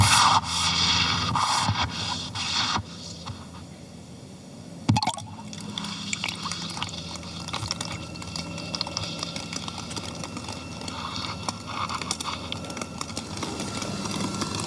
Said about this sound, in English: We can hear the sounds now of crabs, mussels, barnacles, and a boat motor.